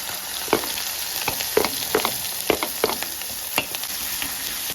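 Crushed ginger and garlic sizzle in hot oil in a pan while cooking pepper chicken, giving a steady close frying hiss broken by several sharp scrapes and taps of a stirring spoon.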